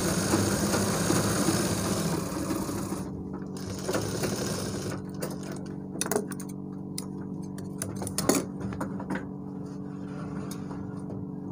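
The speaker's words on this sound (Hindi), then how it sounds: "पाइपिंग की जड़ में सिलाई लगा दें" Sewing machine stitching piping at the base of a trouser back pocket, a continuous close whirring hum with fast ticking stitches, then quieter pauses and sharp handling clicks.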